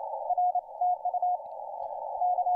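A Morse code signal keys out TU on the 160 m amateur band as a single clear tone, crisp dits and dahs run closely together, with a steady carrier hum between keyed elements and no voices.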